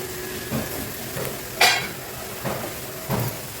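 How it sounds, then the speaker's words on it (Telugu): Gunta punugulu frying in a covered pan, a low steady sizzle with a few soft clinks of a utensil and lid against the pan, one sharper metallic tap near the middle. "ఇటువైపు కూడా ఒక్క నిమిషం మనం వేయించేసుకుందాం మూత పెట్టి"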